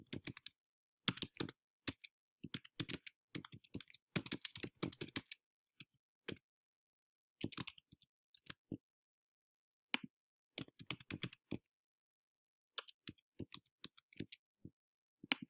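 A computer keyboard being typed on in bursts, crisp close key clicks in quick runs separated by short silent pauses.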